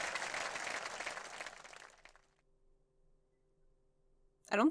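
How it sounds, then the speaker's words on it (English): Applause for musicians after a performance in the farming game Story of Seasons: a dense burst of clapping that fades out after about two seconds, followed by near silence and a brief voice at the end. "Let's give a warm round of applause to these fine musicians."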